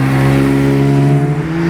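A blue Porsche GT3 sweeps past close by, a loud, steady engine tone with a strong low harmonic that holds briefly, then begins to fade.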